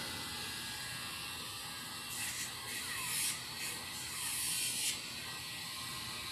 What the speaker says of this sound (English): I am not holding the Dremel on her nail because it built up a lot of heat